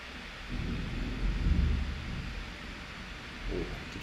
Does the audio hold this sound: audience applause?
no